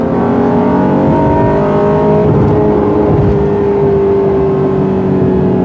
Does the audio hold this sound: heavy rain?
no